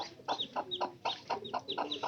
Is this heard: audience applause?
no